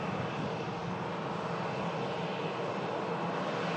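Jet engines on a Ryanair airliner at an airport roar in a steady, even wash of noise from a distance, with no voices.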